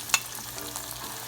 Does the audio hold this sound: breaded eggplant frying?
yes